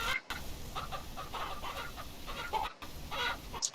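A rooster in the video game King of Retail clucks in a steady stream of close, busy chicken calls, with a couple of brief dropouts and no speech over it.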